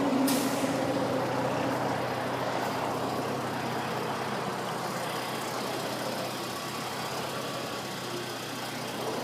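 A 2015 Mercedes-Benz C300 4Matic gives off a steady, continuous engine drone inside the cabin. It stays loud and even throughout, with no voices over it.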